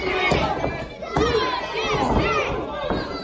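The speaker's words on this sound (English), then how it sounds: "the crowd picking up that 1-2-3 chant" Wrestling crowd at an independent show in Sedalia, Missouri, chanting in rhythmic bursts, loud and close, with shouted voices layered over a steady roar of the audience.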